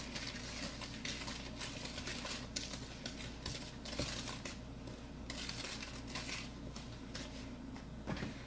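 Dry ingredients are mixed into oatmeal cookie dough in a bowl, producing a dense, continuous clatter of utensil against the bowl with constant scraping and tapping at close range, and no talking.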